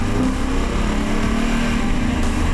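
Lexus RC-F V8 engine heard from outside as the car drives, a continuous throaty drone with a steady low rumble, fairly loud and unbroken throughout.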